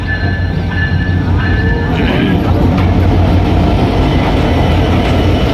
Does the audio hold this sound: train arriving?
yes